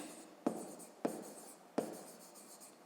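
A pen writes by hand during a 5th-grade maths exercise, making soft scratching strokes with sharp taps at regular intervals, close and quiet with no speech.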